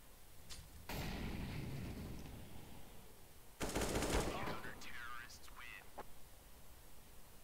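Auto sniper rifle fire in CS:GO comes in loud, close bursts of repeated shots, with quieter game sounds and a player talking between them.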